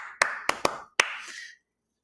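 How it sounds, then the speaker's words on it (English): Schoolchildren clap back a short beat, four crisp claps in a quick uneven rhythm followed by silence. "And then the kids clap back."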